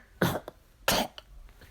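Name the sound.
voice imitating coughing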